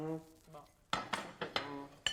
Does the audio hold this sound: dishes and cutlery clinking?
yes